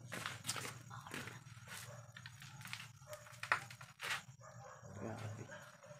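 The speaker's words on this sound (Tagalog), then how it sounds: "Bulabog yung aso tol." Several dogs bark in scattered bursts at a distance, mixed with faint voices and shuffling steps.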